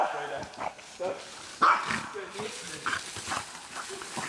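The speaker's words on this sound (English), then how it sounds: "This dog is crazy." A dog barks and yips in short bursts over several seconds, some close and loud, mixed with whimpering and other noises while people talk nearby.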